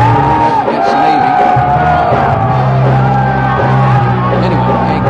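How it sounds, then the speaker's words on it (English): Crowd noise fills a basketball arena at the Jeff Stevens Center during a college game, a steady dense murmur with scattered shouts and calls, close and loud throughout. "a great crowd on hand tonight, as you would expect"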